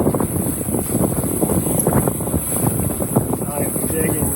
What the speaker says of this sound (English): I am digging this wind out here.